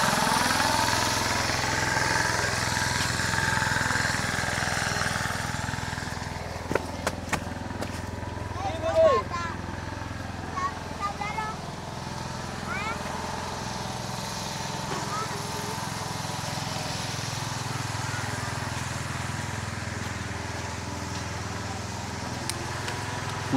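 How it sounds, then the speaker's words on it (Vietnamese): A loud engine runs steadily for the whole stretch at a house construction site where a porch roof is being built. Sharp metallic knocks and clanks cut through the noise, and people talk over it. "Máy nổ to nhỉ."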